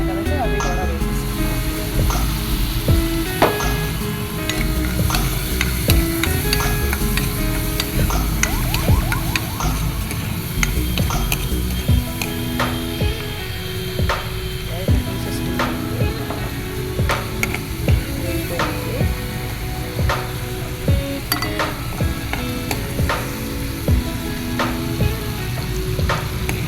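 Chopped onions sizzle and fry steadily in hot oil in a home kitchen pan, with occasional stirring scrapes; a voice talks over the continuous crackle throughout.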